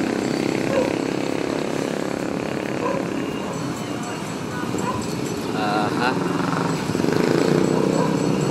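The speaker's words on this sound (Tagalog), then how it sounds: "Effective yung binili kong lagari, pangpuno." A chainsaw drones steadily throughout as it cuts a tree, its engine whine rising and falling, with people talking nearby.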